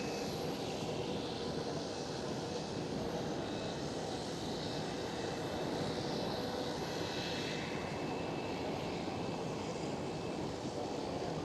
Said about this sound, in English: There goes the KLM Cityhopper E190.